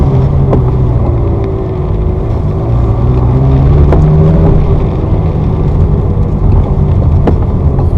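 A Ferrari 360 F1 with a repaired gearbox actuator creeps slowly along a driveway in first gear, its engine a loud, steady low drone with a slight rise in pitch and a few sharp clicks.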